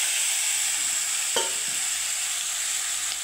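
Spiced cauliflower stalk mixture with meat masala dropped into hot oil, a soft broad frying hiss with one brief clatter as it goes in, faint and steady, no talk.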